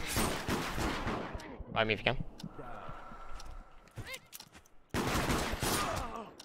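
Rapid bursts of gunfire from a multiplayer video game, sharp repeated shots in clusters at the start and end with a quieter stretch between, mixed with a voice talking over the action.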